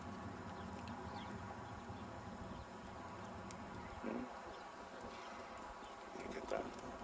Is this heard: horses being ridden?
yes